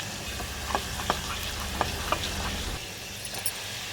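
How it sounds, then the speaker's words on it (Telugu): Onion, garlic and tempering spices sizzle in hot oil while dal with spinach is being made, a steady close frying hiss with a few sharp crackles and pops scattered through the clip. "పప్పుని పోపు పెట్టుకుందాం ఇప్పుడు. కొంచెం ఉల్లిపాయ, కొంచెం వెల్లుల్లి"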